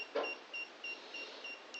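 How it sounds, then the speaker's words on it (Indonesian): Low-level alarm buzzer on a water tank sounding a faint, regular series of short high beeps, about five evenly spaced pulses, with a brief soft knock near the start. "alarm buzzer berbunyi, di mana bunyinya itu merupakan tanda bahwa air dalam keadaan minimum"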